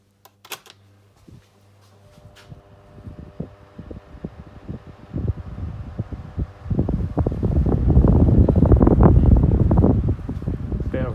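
A 1995 CED and a 1993 Astor 12-inch desk fan run together on low, starting with clicks and a switch, then building into a steady whirring airflow with rattling, growing louder near the microphone.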